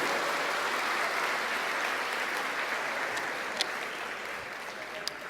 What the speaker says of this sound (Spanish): el aplauso al Señor, gloria a Dios